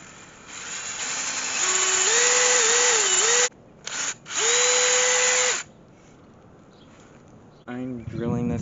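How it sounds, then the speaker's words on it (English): A power drill whines loudly in two long bursts with a short pause between, rising in pitch as it bites into a maple tree trunk for sap tapping, then a voice starts speaking. "I'm drilling this on the east side of the tree."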